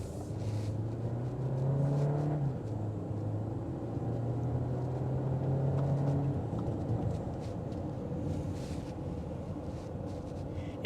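A 2025 Volkswagen Tiguan S on a test drive, its engine giving a steady low hum with a gently rising tone as it gets up to speed, close and continuous under road noise with no talking.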